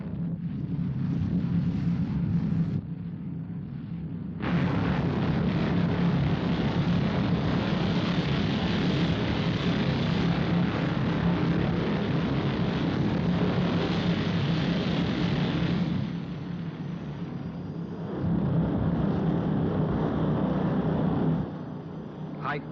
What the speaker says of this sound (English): Internal countdown complete. 5, 4, 3, 2, 1, 0. Stand by for liftoff.